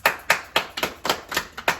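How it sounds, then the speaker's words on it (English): A few hands clapping in an even, steady rhythm, sharp and close, about ten claps with no talking. "Clap it up."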